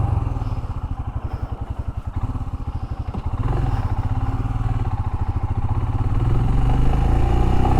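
A motorcycle rides off at the start of an early-morning breakfast ride, its engine a steady, loud rumble with a pulsing low throb that swells as the bike picks up speed.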